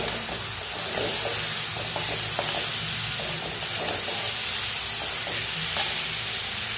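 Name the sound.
stirring spices with tomato and kasuri methi in pan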